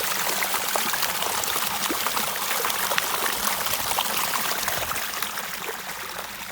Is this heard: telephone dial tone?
no